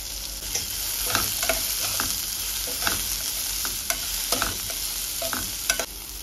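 A green gram curry base of browning aromatics frying in a pan under a steady soft sizzle, broken by repeated scraping stirs of a utensil at a close, moderate level.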